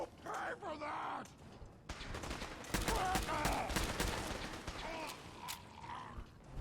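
Rapid bursts of video game gunfire crackle in a dense, loud fusillade, with a voice talking and groaning in the first couple of seconds before the shooting takes over.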